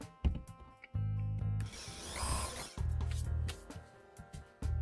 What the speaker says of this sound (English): So let me drill out the hole for this dwarf switch.